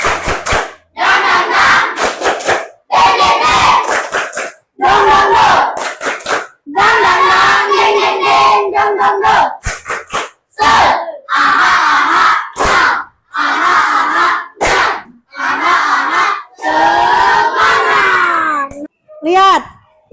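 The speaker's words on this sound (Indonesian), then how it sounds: "Tepuk semangat." A group of students chant a spirit clap loudly in unison in a classroom, their shouted rhythmic phrases broken by short pauses and hand claps, close and energetic throughout.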